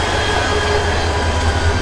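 Mohanagar Provati Express pulling into Bhairab Bazar station on the Dhaka to Chattogram line: a steady, loud low rumble with a faint high whine, heard up close with no pauses.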